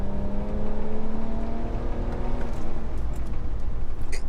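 A tuned BMW 335d with a 370 bhp diesel pulls hard in second gear toward 5,000 RPM, a steady rising engine drone with whirring, heard from inside the car, loud and continuous.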